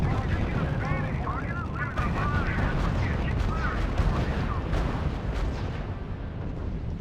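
Heavy gunfire and artillery in the World War II strategy video game RUSE: a dense, continuous barrage of booms and crackling shots, with voices talking over the din.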